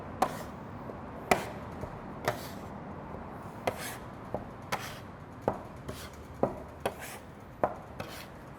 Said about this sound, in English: I'm gonna grab my bench knife or dough scraper